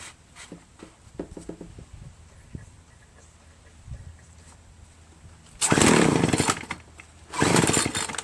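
A Craftsman Bushwacker gas hedge trimmer engine putters and sputters quietly, then bursts into two loud high-revving runs that soon drop back, close by and without voices.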